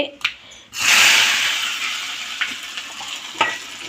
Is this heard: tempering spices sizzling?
yes